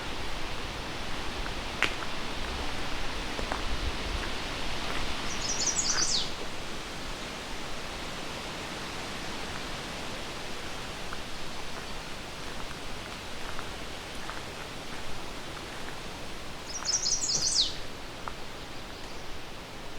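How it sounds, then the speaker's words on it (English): An American redstart sings from woodland along the Huron Fringe, two short high-pitched phrases well apart, fairly faint over a steady wash of rustling background noise. "And we've got some American redstarts here too."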